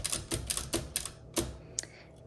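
Keys clack on a 1958 Olympia SM4 manual typewriter with a cursive typeface, a run of sharp, evenly spaced strikes in an irregular rhythm, fairly close and alone with no talk.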